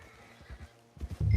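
A horse neighs and snorts in Red Dead Redemption 2, a short whinny that builds from soft low bursts to a louder, closer call at the end with no talk over it.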